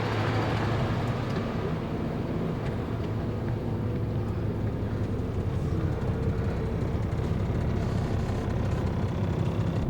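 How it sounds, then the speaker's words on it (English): A Saptco bus on the Dammam to Manama route hums with a steady, deep engine rumble and surrounding traffic noise while passengers board, a constant close drone with no clear speech. "So I'm gonna board on the bus now."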